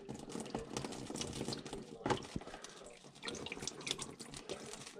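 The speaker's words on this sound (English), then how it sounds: "See if we can rinse this through a little bit." Water rinsing debris through a part from a Vaillant boiler with an F23 fault, a continuous splashing, gurgling flow up close at moderate level.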